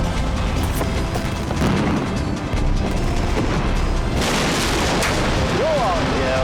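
The explosive demolition of Blyth Power Station is heard as a dense, roaring wall of low rumbling blast noise that continues without a break. Voices are partly buried in the roar.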